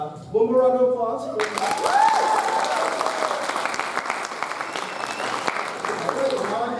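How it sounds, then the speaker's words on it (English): Audience applause at a university communication studies hooding ceremony, a steady round of clapping that swells and holds for several seconds after a voice speaking over a microphone. "One more round of applause."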